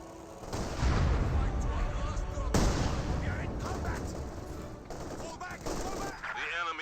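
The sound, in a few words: mortar fire in video game Company of Heroes 2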